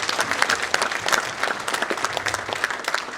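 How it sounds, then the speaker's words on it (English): Applause rises from the audience at an investment conference, a sustained round of clapping with individual claps audible. It is moderately loud and runs evenly, with no speech over it. "So let us give him one more round of applause."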